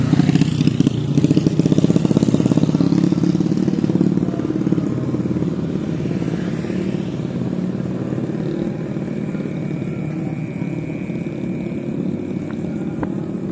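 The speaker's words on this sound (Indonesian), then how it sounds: "Di sini banyak ini sih ya, anak-anak balap liar kayak gini loh." Street-racing motorcycles roar past nearby on a city road in Bekasi, a loud buzzing engine drone that swells early and then fades into steady traffic hum.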